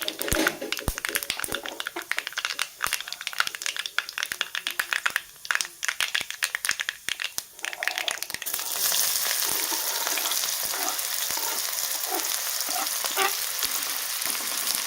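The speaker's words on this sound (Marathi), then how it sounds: "आणि कांदा छान आपल्याला परतून घ्यायचा थोडंसं मी तेल जास्तच घातलं आहे" Onion frying in plenty of oil with mustard seeds and cumin, with a dense crackling sizzle broken by stirring scrapes, then settling into a steady loud hiss.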